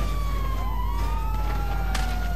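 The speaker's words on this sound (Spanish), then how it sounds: "Los tengo justo detrás, tío, con la sirena puesta y las estrellas parpadeando." A police car siren from GTA V Online wails in a steady, sweeping tone over a constant low engine rumble, loud and close.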